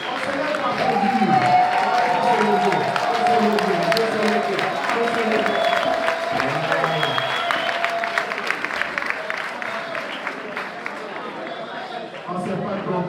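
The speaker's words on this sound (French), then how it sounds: "On se lève pour applaudir." A crowd at a pan-African political gathering rises and applauds, with continuous clapping under cheering, chatter and shuffling movement that runs steadily for the whole stretch, loud and reverberant.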